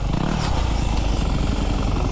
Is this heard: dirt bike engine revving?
yes